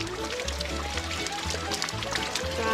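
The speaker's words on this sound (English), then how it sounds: "Big waterfall." A big waterfall on the Devil's Standtable Nature Trail in Giant City State Park pours with a steady, broadband rushing wash, close and continuous, while children's voices chatter faintly over it.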